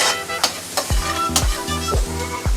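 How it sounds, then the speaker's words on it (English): Chopped peppers and onions stirred in a hot pan at a food truck cooking competition, giving a steady sizzle with repeated scraping stirs about every half second, close and fairly loud, with no talking. "now I'll combine everything together nicely in the pan"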